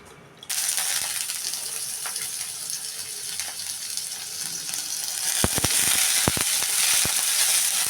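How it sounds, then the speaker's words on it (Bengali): Potatoes drop into hot oil in a wok, and a loud sizzle starts at once and holds steady. Sharper crackles and spatters burst out toward the end while frying goes on, with no voices. "আলুগুলো ভেজে নেব"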